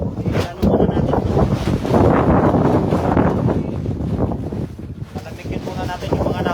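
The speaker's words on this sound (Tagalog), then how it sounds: "So medyo lumakas yung hangin ah." Strong wind buffets a small fishing boat out at sea, a loud, steady roar with gusty rumbling against the microphone that dips briefly near the middle and end.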